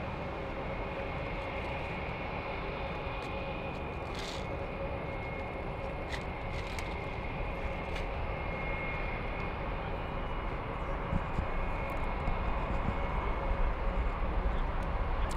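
A Lufthansa Airbus A330neo at Frankfurt airport produces a steady, sustained jet engine roar with a constant high whine, growing slightly louder toward the end, heard at a distance with no talk.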